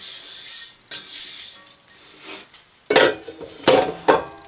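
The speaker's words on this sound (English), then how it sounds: "Then I just like to mix the rest of it by hand" Bath bomb mixture of baking soda being mixed by hand in a bowl, with dry gritty rubbing and scraping in uneven strokes, then several sharper, louder scrapes and knocks near the end, close up with no talking.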